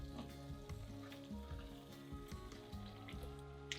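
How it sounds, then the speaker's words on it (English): Golden paste of turmeric and spices simmering in a pan, giving off a steady, soft sizzling bubble with low crackle throughout, close by and alone. "You can kind of see it's starting to simmer and starting to bubble just a little bit."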